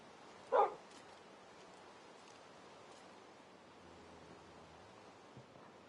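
A single short dog bark rings out in a video game, moderately loud near the start, then only faint background hiss and rustle follows.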